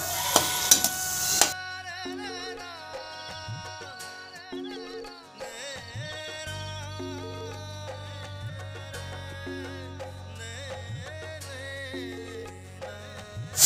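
Banana flower and onion fry in a pan with a loud, brief sizzle at the start, which soon gives way to steady music that carries the rest of the clip.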